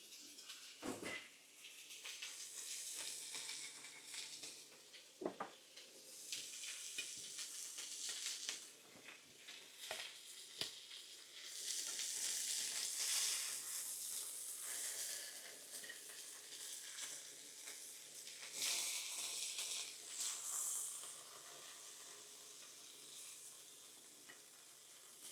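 Food sizzles and fries steadily in a pan at close range, a continuous hiss with occasional stirring clinks and brief thumps, swelling louder in stretches, with no talking.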